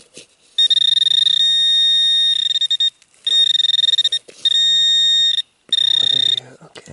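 A Garrett AT Pro metal detector sounding off over a target: loud, close, sustained electronic tones in several long bursts separated by short gaps, with a few faint rustling sounds between them.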